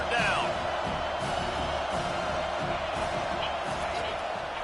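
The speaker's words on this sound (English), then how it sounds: "Decibels rising as the crowd gets behind this defense on third down." A stadium crowd roars on third down in College Football 25, a sustained loud wall of cheering and whooping behind a commentator's voice.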